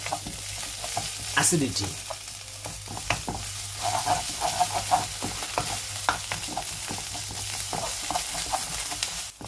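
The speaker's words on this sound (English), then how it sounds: "Tomato paste is getting ready." Tomato puree fries in a pan for beef kaldereta, giving a steady close sizzle with scattered crackles and soft stirring scrapes, and no talking.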